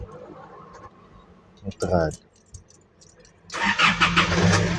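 An Isuzu MU-X with a check-engine light on is started: a short cranking whir, then the engine catches and settles into a steady idle that runs to the end, following a brief voice.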